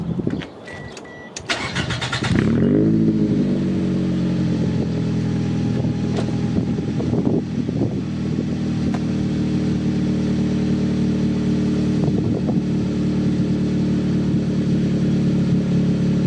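Car engine cranking over and catching, then settling into a steady, loud idle as it warms up ahead of an oil change, heard close with a few faint clicks over the constant hum.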